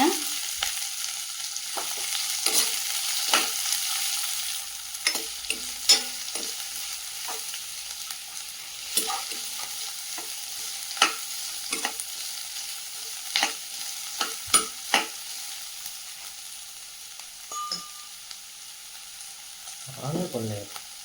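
Sliced onion goes into oil with cloves, cardamom and a stick of cinnamon, frying with a soft sizzle broken by repeated scraping stir strokes and taps of a spoon, no talk.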